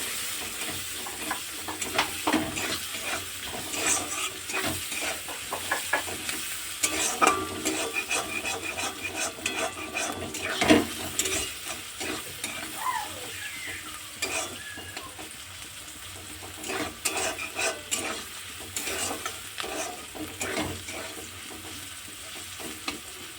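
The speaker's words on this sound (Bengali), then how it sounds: "এই দেখো পেঁয়াজটা আমার হালকা ভাজা হয়ে গেছে" Onion fries in a pan (kadai) for ghugni while being stirred, a continuous sizzle broken by repeated scraping strokes of a spatula against the metal, close and clear with no voices.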